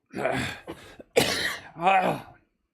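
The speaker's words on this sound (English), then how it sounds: "I don't want to be coughing the whole time" Several harsh coughs and throat-clearing sounds come in quick bursts, close and fairly quiet, with no words spoken.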